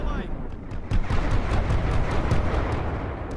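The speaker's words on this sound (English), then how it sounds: "I'm just going to go the old-fashioned way and hit everything with artillery in case there are Germans there." Artillery fire in the World War One game The Great War: Western Front booms in dense, overlapping rumbling blasts, loud and continuous, with sharper impacts punctuating a heavy roar.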